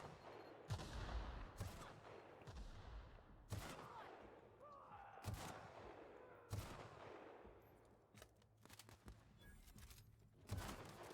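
Hunting rifle shots in The Outer Worlds, a sci-fi shooter, ring out as about half a dozen sharp cracks spaced a second or two apart over continuous combat ambience.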